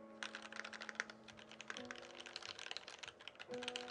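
Fingers type on a Monstargear XO87 V3 mechanical keyboard fitted with JWK Lavender switches, producing quiet, rapid, irregular keystroke clacks close by, with no talking.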